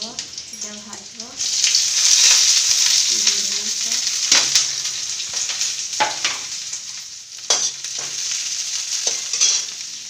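Garlic fries in a pan with a bright, hissing sizzle broken by sharp clicks and scrapes of stirring, while a person speaks intermittently over the cooking.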